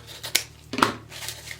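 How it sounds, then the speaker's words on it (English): Scissors cutting ribbon from a cardboard roll: a few short snips and a sharper metallic cut near the middle, close and quiet over faint room hum. "So I'm just going to slide my scissors in between the cardboard and the ribbon and cut."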